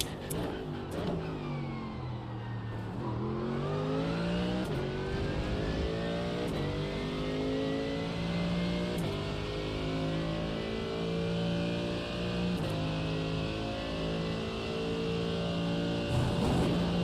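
A GT3 race car engine in a racing video game drones steadily with rising and falling revs through gear changes, loud and continuous with no talk over it.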